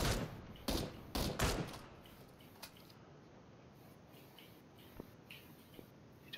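Several sharp, loud gunshot bursts in a video game in the first two seconds, then sparse faint shots and small impacts over a quiet backdrop.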